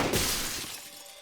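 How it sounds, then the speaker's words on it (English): A car window in the game 428: Shibuya Scramble shatters from a stray gunshot: a single loud, close crash of breaking glass that fades quickly, with no voices. "shattering the window of a nearby car"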